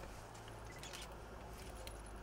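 Keys jangle faintly in bursts as they are handled while locking the door of a glass café in Borne, with a steady low hum of the surroundings underneath.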